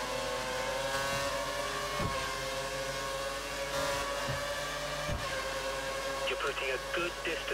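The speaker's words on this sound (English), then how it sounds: "We think the car behind is running on full revs." A race car engine in a racing video game, at the Korea circuit, holds a steady, high-revving drone at full revs throughout, with a radio voice talking over it.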